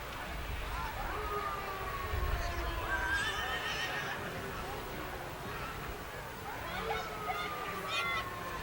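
Horses drawing wagons in a Christmas street parade through Sydney, several whinnies rising over steady hoof clatter and a noisy outdoor crowd, with children's voices and a faint siren in the background.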